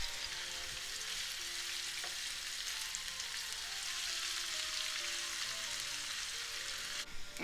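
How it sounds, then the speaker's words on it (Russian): Steady, dense sizzling of onion and carrot frying in hot oil in a pan, continuous and close, with no voices. "чтобы у нас овощи не горели, а жарились"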